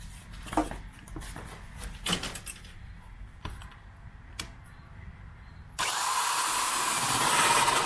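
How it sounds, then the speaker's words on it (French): A power drill bores through a garage wall from the inside while an electric-vehicle charger is installed; a few scattered knocks and clicks come first, then a loud, steady whine of drilling takes over for the last two seconds. "on a décidé de le finaliser en perçant de l'intérieur"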